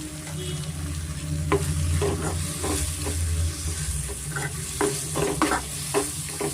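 Onion and tomato fry in a pan with bisibele bath powder and chilli powder for broken wheat bisibele bath, a steady close sizzle broken by repeated scraping stirs of a spoon.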